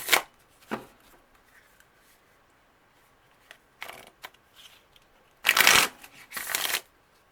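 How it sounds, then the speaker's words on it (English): Tarot and oracle cards shuffled and pulled from a deck, crisp papery riffling bursts near the start and a louder double burst toward the end, separated by quieter handling rustles, no talking. "I'm going to pull an oracle card to see what your guides want to confirm for you."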